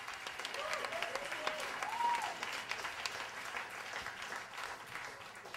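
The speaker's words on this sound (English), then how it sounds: "Keep that clap going for Adam Wade" An audience applauds storyteller Adam Wade, sustained dense clapping at moderate distance with a few cheers and whoops rising above it, and a voice speaking over the applause.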